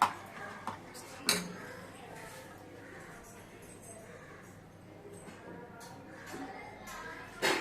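A pot of Tamil-style ragi porridge (kezhvaragu koozh) made with broken rice is stirred continuously, giving soft scraping and occasional sharp clinks of a utensil against the pot over a quiet kitchen background, with a louder knock near the start and the end.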